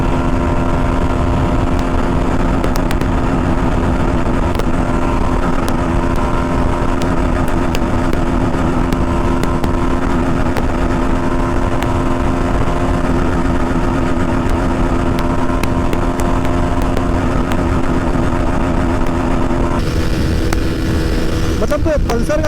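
A Bajaj Pulsar NS 160 and a TVS Apache 160 4V drag racing at top speed, their engines droning loudly and steadily, with a voice talking over the noise.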